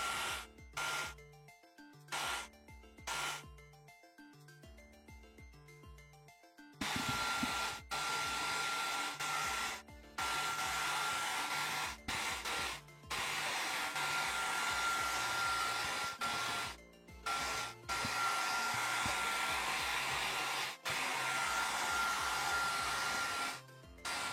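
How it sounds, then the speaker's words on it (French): A hair dryer whirs steadily at close range, cutting out and restarting several times after a quieter patch of muffled movement at the start. "Comme ça j'éloigne encore plus le micro du sèche-cheveux."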